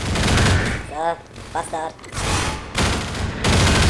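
Gunfire in the video game Half-Life 2, dense bursts of shots in bursts at the start and end, with someone talking over the middle.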